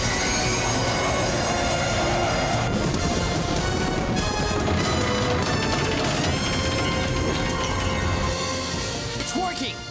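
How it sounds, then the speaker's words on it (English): Cartoon thrusters from Thunderbird 1 roar against a train that is being slowed, with grinding, squealing metal wheels and crashing noise, loud throughout and under excited talk. "I'm using Thunderbird 1's thrusters to slow down the train."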